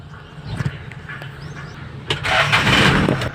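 A Kia Bongo truck's engine is cranked and catches after a short starter whir, rising into a louder rough idle near the end, with no talk over it.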